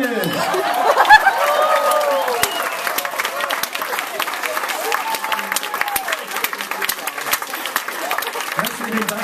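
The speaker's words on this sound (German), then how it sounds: "Einen herzlichen Applaus an meine Background-Vocals" Audience applause for backing vocalists at a live music show, clapping that swells and then tapers, mixed with crowd chatter and some chuckling, while musical tones fade out underneath.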